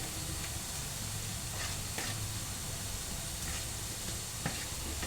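Kaaram boondi batter fries in hot oil in a kadai, a steady, soft sizzle and hiss throughout with occasional faint pops and light stirring clinks, no voices.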